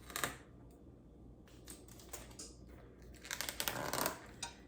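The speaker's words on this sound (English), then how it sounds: "I'm gonna be using my kitchen shears here to cut into here." Kitchen shears cut into the plastic packaging of half-pound Shaq burger patties, making quiet, scattered clicks, snips and crinkles close to the microphone, with no talking.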